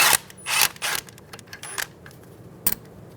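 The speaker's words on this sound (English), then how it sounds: "Using a 12mm socket, remove the union bolt." A 12mm socket on a ratchet clicks and creaks while loosening the brake line bracket bolt on a 2007-2011 Toyota Camry during a rear brake hose replacement. Several short, sharp mechanical bursts sound close, with quieter clinks between them.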